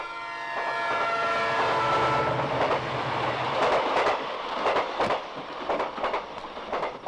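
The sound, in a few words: Nellai Express train passing a level crossing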